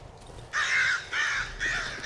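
Crows caw in the horror video game Darkwood, three harsh calls in a slow, evenly spaced sequence over a quiet ambient background.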